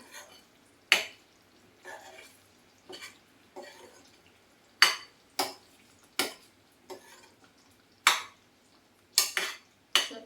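Spoon stirring cut paneer pieces into a gravy in a pan, heard as a series of scattered scraping and clinking strokes, some sharp and louder, others soft, with quiet pauses between and no talking.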